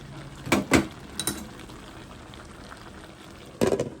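Jaffna-style drumstick prawn curry bubbling in a pot, a soft steady simmer with a few louder clattering knocks near the start and end, close by and with no one speaking.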